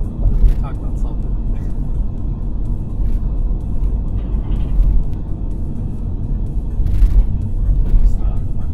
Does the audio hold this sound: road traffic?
yes